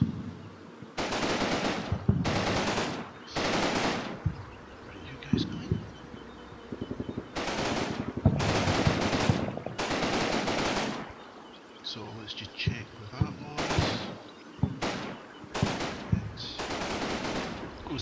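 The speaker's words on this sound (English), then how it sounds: "Ah, we found a machine gun." Machine gun fire in the World War II game Combat Mission Battle for Normandy, with repeated loud bursts of rapid automatic shots and short gaps between them, and a voice talking over the gunfire.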